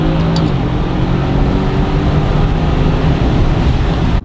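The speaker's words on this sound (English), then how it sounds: "Pops and cracks are much more aggressive with this setup as well." A Mercedes-AMG GT-S with a full titanium exhaust, OEM downpipes and the exhaust valves open gives a loud, deep, rumbling roar that rises as the car pulls away, close and continuous, then drops abruptly at the end.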